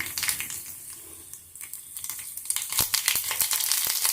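Sharp crackling pops burst as mustard seeds splutter in hot coconut oil, growing denser and louder toward the end, with several distinct snaps standing out over a steady hiss.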